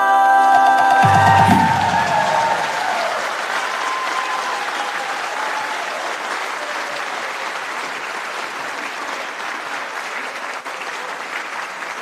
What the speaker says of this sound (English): Can I get another round of applause for our...